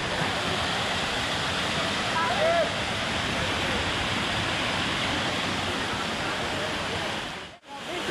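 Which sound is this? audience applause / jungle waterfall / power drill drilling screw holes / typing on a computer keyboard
jungle waterfall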